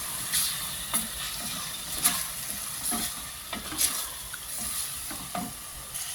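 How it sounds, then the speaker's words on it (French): Mussels sauté in a pan with a steady low sizzle, broken by repeated soft scraping strokes as they are stirred, close and moderately quiet. "vous allez rajouter les moules. Vous allez les faire un petit peu revenir."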